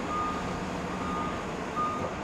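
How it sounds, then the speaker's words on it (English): A city bus kneeling down to an elevated platform on a hot downtown Toronto street, with a steady high warning beep repeating under broad traffic and street noise, moderately distant. "that bus is kneeling down to the elevated platform"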